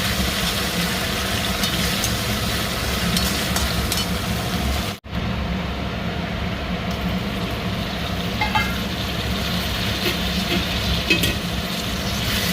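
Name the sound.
frying onion with ginger garlic paste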